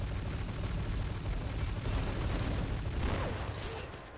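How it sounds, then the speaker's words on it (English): Continuous dense rumbling fire from an anti-aircraft gun mounted on a vehicle in a war game set in Tripoli, a steady loud roar of rapid shots with no break. "Love that anti-aircraft gun that's mounted on the vehicle."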